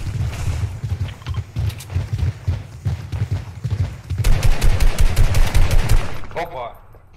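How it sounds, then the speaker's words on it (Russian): Rapid automatic gunfire in a shooter game, sustained rattling bursts with a heavier, denser volley near the end, under brief talk. "Кто где стреляет?"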